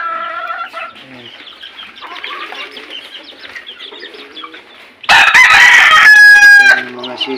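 Chickens and chicks on an organic farm cluck and peep close by, then a rooster bursts into a loud, nearby crow that dominates for a couple of seconds before the quieter clucking resumes.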